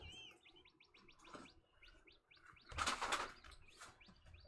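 One-month-old chicks in a sandbox, with rapid repeated high chirps and short bursts of wing flapping that swell loudest midway, close and fairly quiet with no talking.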